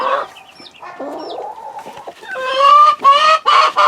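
Chickens cluck and squawk close by, with rising, honking calls growing louder toward the end.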